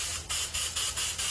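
Compressed air blasting water out of a spray gun after cleaning, a series of about five sharp hissing bursts in quick succession, close and fairly loud.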